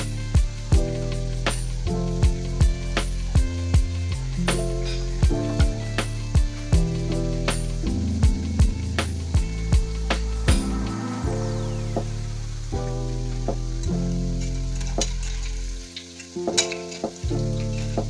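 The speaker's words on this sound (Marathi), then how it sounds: "त्याप्रमाणे आपण भजी तळूया. मंद गॅस, खूप फास्ट नाही, मीडियम गॅस ठेवा आणि तळून घ्या भजी." Onion bhaji (kanda bhaji) deep-frying in oil over medium heat, a steady loud sizzle and bubble running throughout with repeated sharp clinks and stirring knocks, no talking.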